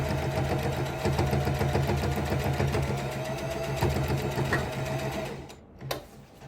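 A sewing machine stitches ribbons onto a ribbon skirt, running in a fast, steady mechanical whir with a regular needle rhythm, then stopping near the end and leaving a short pause broken by a single click.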